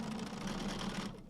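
Sewing machine chain piecing quilt blocks runs in one continuous fast whirring hum, close and steady, stopping abruptly at the end.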